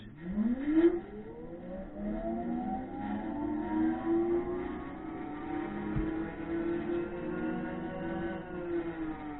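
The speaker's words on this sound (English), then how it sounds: "I put it back, the motor starts spinning" An Emsiso EmDrive 500 electric motor spins up on a test setup, its whine rising smoothly in pitch over the first couple of seconds and then holding a steady tone. It is close and fairly loud, with no talking.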